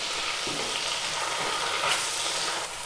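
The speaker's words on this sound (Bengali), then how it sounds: "সব একসঙ্গে মিশিয়ে মিশিয়ে খানিকক্ষণ কষিয়ে নেব।" Cumin and turmeric powders fry in oil in a pan for a chana paneer dish, giving a steady, dense sizzling hiss with faint stirring, no voice.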